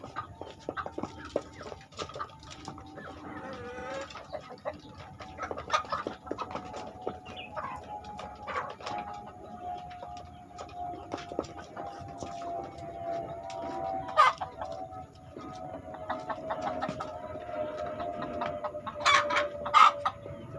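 A flock of chickens clucks steadily while pecking at fermented feed in a coop, dense overlapping clucks and a rooster crowing near the end, with a faint steady hum underneath.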